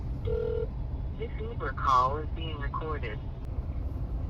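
A few short electronic tones sound as a phone number is dialed, followed by a person talking close by.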